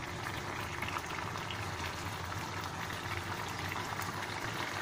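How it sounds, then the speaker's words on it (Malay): Tamarind water is poured into hot oil and chili paste for Malaysian sambal tumis with selar fish, giving a steady, loud, dense sizzling and bubbling hiss that fills the whole stretch without a break. "Okay, kita letak air asam."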